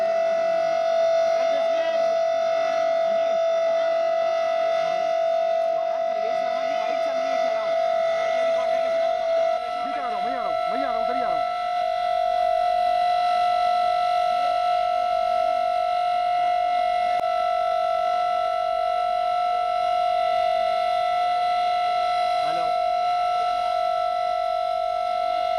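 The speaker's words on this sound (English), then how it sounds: "So those are the sirens going off" A steady, wailing civil defense siren tone holds for the whole stretch during a drill in India's national capital, loud and unbroken, with faint background murmur underneath.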